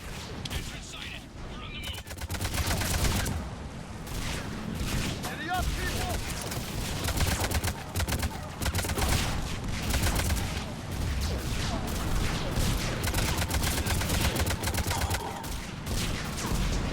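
Gunfire in the video game Mass Effect 3: dense, continuous rapid shooting and bursts with booming impacts, loud and sustained throughout.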